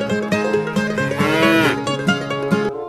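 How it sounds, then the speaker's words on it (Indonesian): A water buffalo moos, a long loud bellowing call, close and clear, with a light musical backing and no talk. "Wah, ternyata hewan kerbau."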